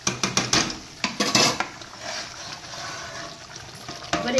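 Hilsa fish pieces go into a pan of malai curry, with clinks of metal utensils against the pan and soft sizzling in between, close and moderately loud.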